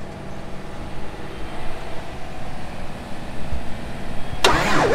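A farm tractor with a troublesome, repeatedly dead battery cranks and starts during cotton planting, its engine rumbling steadily and close throughout, with a sharp burst near the end.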